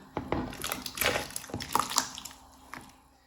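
Mango pieces dropped into a pot of hot water on a home kitchen stove, giving a run of soft splashes, plops and drips close by, with a last small splash near the end.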